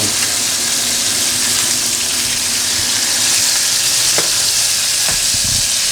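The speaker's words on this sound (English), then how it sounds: "Another sear, other side." Meat searing on its second side in a very hot pan, a loud, dense, unbroken sizzle that fills the whole stretch, with a couple of faint clinks underneath.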